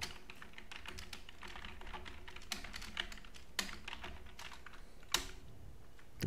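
A computer keyboard clatters with a steady run of close, quiet keystrokes as a command is typed, with a few sharper key presses toward the end and no talking.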